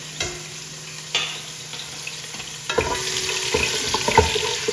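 Garlic hits hot coconut oil with sharp bursts of sizzling and stirring clatter, the frying growing busier and louder toward the end, close and with no one speaking.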